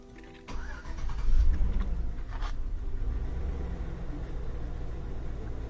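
A GMC Vortec engine in a 16-year-old vehicle cranks and fires up after a throttle body cleaning, then settles into a steady, slightly hunting idle that carries on loud and close with no talking.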